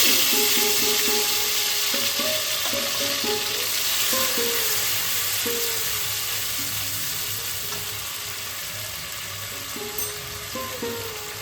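Red chilli, cumin, coriander and ginger paste frying in caramelised sugar, a loud, continuous sizzle close up with faint tonal clinks and stirring underneath, slowly easing in intensity.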